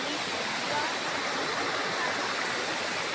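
Waterfall and river in the mountains of the Philippines, a steady, dense rush of falling water that stays loud and even throughout, with no pauses and no voices.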